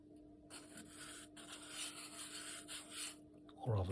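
A surface is filed flat on a DIY robotic hand part, giving a quiet, close rubbing rasp in repeated strokes.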